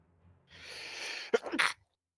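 A single close sneeze: a rising breathy inhale ends in a sharp explosive burst and a short trailing breath, then silence.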